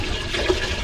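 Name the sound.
water being poured into a large cooking pot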